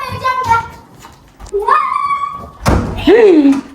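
A door is forced and slammed shut in a home during a children's role-swap challenge, a heavy thunk landing amid excited child speech and a high squeal, with talk before and after.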